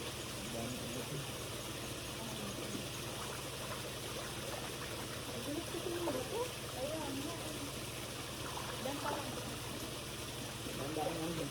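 Water flows at a secluded waterfall in a steady, continuous wash, with people talking and calling to each other over it.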